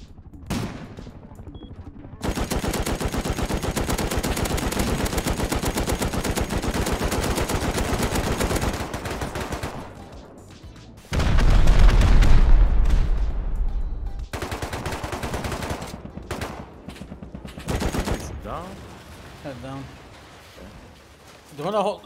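Bursts of AK rifle gunfire in the Rust video game, sustained rapid automatic fire for several seconds and then further volleys and single shots, with players talking over it.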